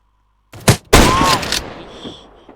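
Gunfire in a video game: a sharp shot followed by a loud, dense burst of blasts that tails off into ringing echoes, close and punchy, a voice briefly audible among the shots.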